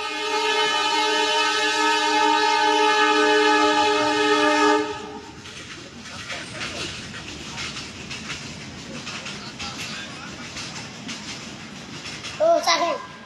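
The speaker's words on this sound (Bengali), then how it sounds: "আবার ট্রেন আসছে।" A train rolls past near a railway station, opening with a loud, sustained horn blast that ends after about five seconds, followed by the rumble and clatter of passing cars and a brief squeal near the end.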